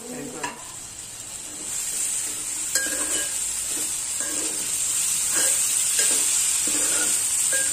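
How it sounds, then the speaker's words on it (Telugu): Tomato pieces sizzling and frying in a pan with bitter gourd, a steady loud hiss with repeated scraping stirs throughout, close up. "ఇప్పుడు ముందుగా తరిగి పెట్టుకున్న టమాటా ముక్కలను వేసుకోండి."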